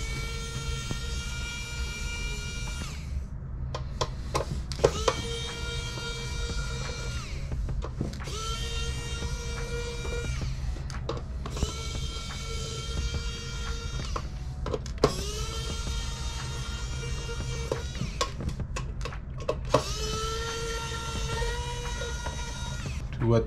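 Electric screwdriver backing screws out of a PS5 disc drive, a close, high whirring buzz running in about five bursts of a few seconds each, with short pauses and clicks between them.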